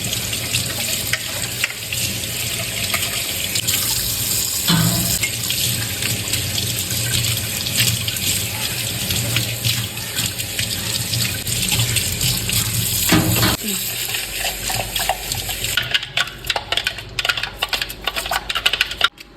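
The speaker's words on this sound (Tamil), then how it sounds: "ஸோ ஃபர்ஸ இதில் இருக்கிற மற்ற பார்ட்ஸ் எல்லாமே நீங்கள் ஜஸ்ட் சோப் அண்ட் வாட்டர் வச்சு ஈஸியாக கழுவிடலாம்." Parts of a Hamilton Beach cold press slow juicer are washed with soap under a running tap, with water splashing steadily and occasional clinks and knocks of plastic pieces.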